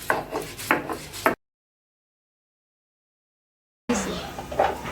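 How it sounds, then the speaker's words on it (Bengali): Mustard seeds and chili are ground by hand on a stone, giving a close, repeated rough rubbing and scraping in two bursts separated by a stretch of silence. "এই জন্য আমি একটু বেটে নিচ্ছি"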